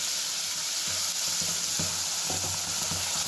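Onion and garlic hit hot spiced oil with cumin seeds for a crab curry, giving a loud continuous sizzle with soft stirring scrapes and clatter throughout.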